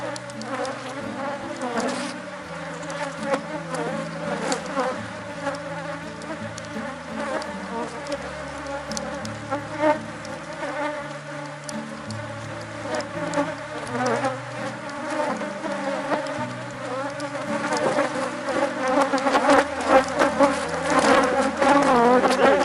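A swarm of honeybees drones steadily around a divided four-frame hive, the dense buzzing swelling louder toward the end, with no talk.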